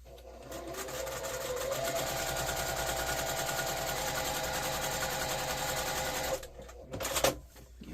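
A sewing machine top-stitches the seams of a fabric heat pack cover in one long, steady, fast-whirring run that lasts several seconds, then stops, followed by a few handling clunks.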